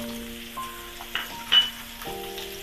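Sweet potato slices frying in a pan with fresh grated coconut, a soft continuous sizzle with a few short scraping stir sounds and light clinks, close and moderately quiet, with background tones running underneath.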